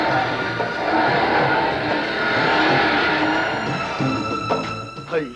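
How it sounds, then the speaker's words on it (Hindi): A car accelerates hard and overtakes on a road, engine rising with tire noise throughout, loud and close, with a brief squeal-like burst near the end. "और चौधरी शौकीन को ही ओवरटेक कर गया।"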